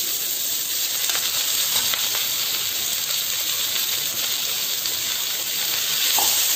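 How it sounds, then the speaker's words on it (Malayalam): Chopped onions hit a hot pan over softened green chillies for a chicken roast, producing a continuous loud, close sizzle and hiss with faint stirring clicks throughout, no voices. "സവാള കട്ട് ചെയ്ത് ചേർക്കാം"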